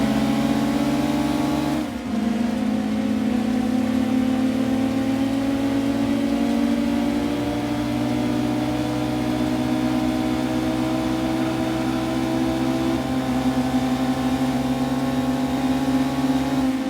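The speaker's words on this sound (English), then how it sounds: "That car behind me certainly doesn't sound like a Civic" A racing car engine in Gran Turismo 2 holds a steady, loud mid-pitched drone, rising slightly in pitch, with a brief dip near the start as if shifting gear.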